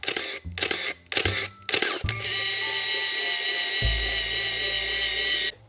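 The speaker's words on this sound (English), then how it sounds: "When the roll is finished, it will stop and auto-wind." A Canon EOS film camera fires a few quick shutter clicks, then its motor whirs steadily as it auto-winds the finished roll, a close, continuous high mechanical drone lasting several seconds.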